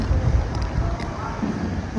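Steady wind buffeting the microphone with a low rumbling roar throughout on Boracay, and a voice speaking briefly over it.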